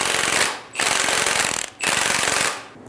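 An impact or air tool rattles loudly while removing the strut top nut on a 2000-2007 Ford Focus with an 18mm socket, in three hammering bursts separated by brief pauses.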